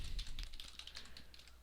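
Rapid close tapping of keys on a computer keyboard while entering programming code, a quick irregular run of light clicks that gradually softens, with no voices.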